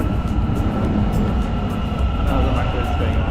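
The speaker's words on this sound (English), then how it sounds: "Another metro is going on." Metro train crossing the Golden Horn Bridge in Istanbul, a steady broadband rumble over open water with wind noise, continuous and fairly close throughout.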